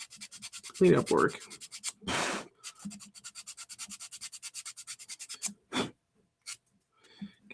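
Rhythmic strokes of a nail file rasping along the edges of a prop rifle, rounding and bevelling them, repeating in quick bursts up close with a few louder rubs and pauses.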